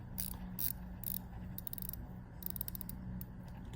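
A Seiko Sumo SPB325 dive watch bezel clicks faintly as it is rotated, in small clusters of crisp ratcheting ticks over a low background hum, close up and quiet.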